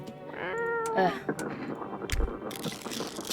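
A cat in the video game No, I'm Not A Human gives one clear, rising meow up close, followed by clicking and rattling mechanical noises.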